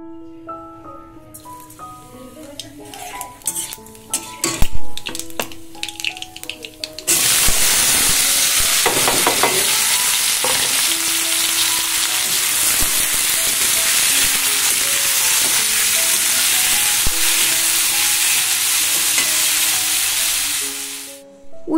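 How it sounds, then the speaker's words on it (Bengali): Bitter gourd and potato strips drop into hot oil in a wok and set off a loud, steady sizzle that fills the rest of the clip, after clinking and scraping of the utensils. Faint musical tones play underneath, and there are no voices. "এবার ভাজাগুলো করে নেব"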